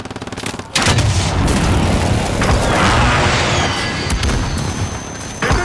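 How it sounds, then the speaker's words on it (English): Airstrike explosions in the video game Call of Duty: Modern Warfare, a dense, loud barrage of booming blasts and rumbling detonations mixed with gunfire that roars continuously for several seconds after a brief lead-in. "Airstrike target. Hit it."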